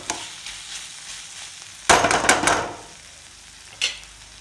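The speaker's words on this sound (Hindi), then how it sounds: "बढ़िया से भुंजाते हैं बस कुंदरू मसाला" Kundru (ivy gourd) masala fries in a pan with a soft background sizzle, then a loud burst of stirring and scraping, followed by one brief stir near the end.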